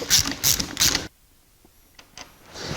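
A transmission bolt on a 1984 Jeep CJ7 gets worked loose, with three quick, loud ratcheting bursts, then near silence and a few faint metallic clicks.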